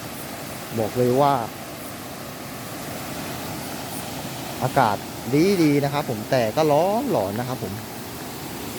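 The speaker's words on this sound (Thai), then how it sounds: "นี่คือเสียงน้ำตกที่ทุกคนได้ยินกันนะครับ" A mountain waterfall roars as a steady, even rush of water throughout, while someone talks over it in short bursts.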